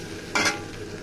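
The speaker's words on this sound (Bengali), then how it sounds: "আলুগুলো লবণ দিয়ে আগে সিদ্ধ করে নিয়েছি, তারপর লাল লাল করে ভেজে নেব।" Small new potatoes, boiled in salted water beforehand, fry in hot oil in a home kitchen, giving a short, sharp burst of sizzling as they are stirred against a low background.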